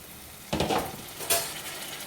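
A lid is lifted off a pot of ginger garlic paste frying until brown, releasing two brief bursts of loud sizzling over a steady, softer background fry.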